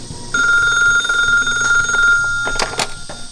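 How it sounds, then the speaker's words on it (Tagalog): A telephone rings with a steady, bright electronic tone that starts abruptly and holds, heard close and loud, with a couple of sharp knocks near the end and no speech. "Inak man na sumbatan ti telepono."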